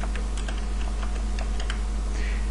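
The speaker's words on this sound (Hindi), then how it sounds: "मिसाल के तौर पर मैं यहाँ इंग्लिश में लिखता हूं न्यू विजन" Keys on a computer keyboard clatter in an irregular run of quick, light taps, steady and close with a faint hum underneath and no talking.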